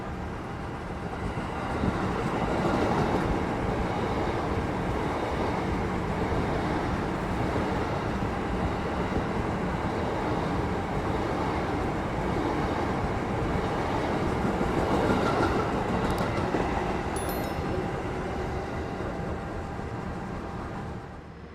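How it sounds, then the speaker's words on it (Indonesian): The Purwojaya extra train rolls in on track 3 of an Indonesian station, a loud, sustained rumble of wheels and cars that runs for about twenty seconds, with a brief high squeal near the end. "Yang masuk di jalur nomor 3 itu merupakan rangkaian dari kereta api Purwojaya tambahan ya."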